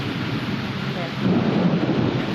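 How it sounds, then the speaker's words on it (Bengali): Heavy monsoon rain pours down steadily as a low roll of thunder swells partway through and lingers beneath the dense hiss of the rain. "এত পরিমাণে বৃষ্টি হচ্ছে চারিদিকটা, ভালোও লাগছে"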